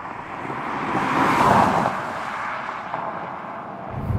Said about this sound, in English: road noise is reasonable.